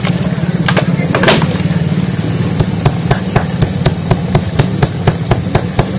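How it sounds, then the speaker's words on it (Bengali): A kitchen grinder or mixer motor grinding whole garam masala spices with a little water, a loud steady mechanical drone punctuated by sharp rattling knocks that grow regular and rhythmic toward the end. "আর নিয়েছি গোটা গরম মশলা আর এটা একটু জল দিয়ে ভেটে নেব"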